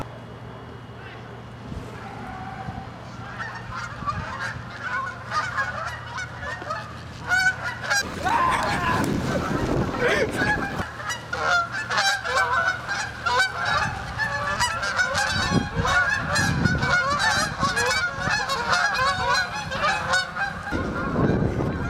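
A flock of geese honks loudly and repeatedly while being chased, with harsh overlapping calls that grow busier and denser as people shout and talk among them.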